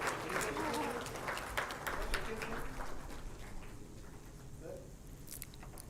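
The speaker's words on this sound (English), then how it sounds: "can we please have a big round of applause?" A conference audience at an IIT Madras event on innovative technologies applauds with moderately quiet, crackling claps, strongest at first and then thinning out while faint voices murmur in the room.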